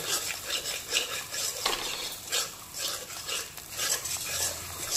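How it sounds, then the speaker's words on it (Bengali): A spoon stirs eggplant masala with yogurt and cashew-poppy paste in a pan over a low flame, giving repeated soft scraping and swishing strokes, close up, with no speech. "ভালো করে নাড়তে হবে, না হলে দইটা ফেটে যাবে।"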